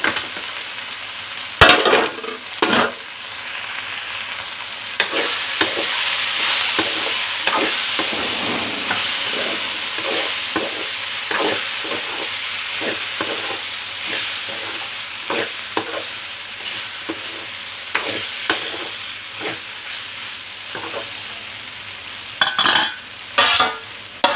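Eggplant, tamarind leaf and potato curry simmers over a low flame, with a steady soft sizzle broken by repeated scraping stirs of a spoon against the pan, close and fairly loud throughout, with no voices.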